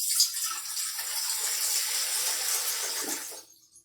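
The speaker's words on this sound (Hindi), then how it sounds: "हम एक पतीला लेंगे, 1 लीटर के करीब इसमें पानी डाल देंगे।" Water pours steadily into a cooking pot, about a litre for boiling rice ahead of an egg biryani, a continuous close gush that cuts off near the end.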